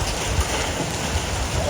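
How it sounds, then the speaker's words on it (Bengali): A hailstorm with hail and rain pours down, a dense, steady patter of drops on surfaces with a couple of soft, low thuds, close and continuous throughout the brief moment. "এখন একটুতে শিলা বৃষ্টি হল"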